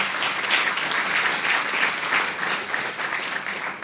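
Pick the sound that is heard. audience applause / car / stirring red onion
audience applause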